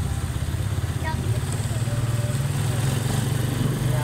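A grandfather's motorcycle engine labors steadily uphill on a family road trip in the rain, its low rhythmic chug loud and close throughout, with no talk over it.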